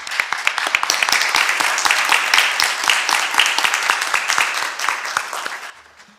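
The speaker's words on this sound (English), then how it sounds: "let us welcome her with a warm applause right now" An audience at a spiritual gathering gives warm applause, with sharp individual claps clearly audible up close in a dense, lively burst that thins and fades out at the end.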